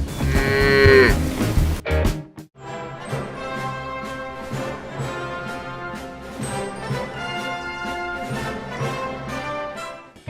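Cattle lowing: a loud, drawn-out moo opens, then a steady run of tonal, harmonic sound carries on without any speech.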